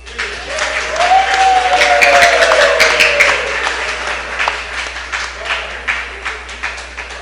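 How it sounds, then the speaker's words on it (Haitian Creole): An audience bursts into applause, and the steady clapping rises and then thins out toward the end, with a voice heard over it for a few moments early on. "gros applaudissements pour Atissa"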